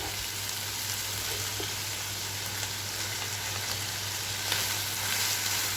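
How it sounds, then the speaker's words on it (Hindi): Carrots and capsicum fry in a teaspoon of oil over a low flame, giving a steady, close sizzle that holds even and continuous throughout with no talking. "गाजर और शिमला मिर्च को थोड़ा सा मैंने ब्राउन किया है 1 चम्मच ऑयल में।"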